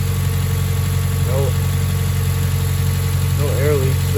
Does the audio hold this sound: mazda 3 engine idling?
yes